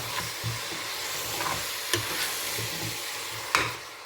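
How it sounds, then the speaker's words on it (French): Washed vegetables and spices are stirred in a pot for a ndunda biteku teku dish, making a steady hissing simmer under scraping spoon strokes, with a few sharp clacks against the pot rim. "Là, je mélange tout."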